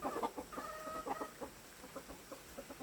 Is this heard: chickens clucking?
yes